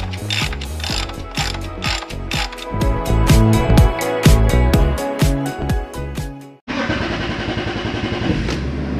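The engine of a car cranks slowly with a rapid, loud mechanical chatter for several seconds, then catches and settles into a steady running drone, all close by and with no talking.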